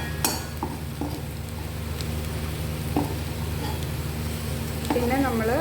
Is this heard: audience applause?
no